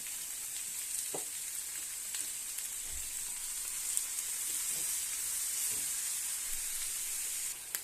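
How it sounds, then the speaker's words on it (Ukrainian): Chopped onions fry and sizzle steadily in a pan as they are stirred, a continuous bright hiss with occasional soft scrapes and taps of the spoon, close and alone with no talking, while chanterelle mushrooms are being cooked. "цибулька, як смажиться, ми її постійно помішуємо, щоб ніде нічого нам не пригоріло"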